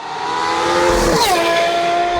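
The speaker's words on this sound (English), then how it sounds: "with this Boost Logic exhaust, it sounds absolutely phenomenal." A loud Ferrari 296 engine with a Boost Logic aftermarket exhaust revs up sharply and climbs in pitch, then settles into a steady high drone, close by.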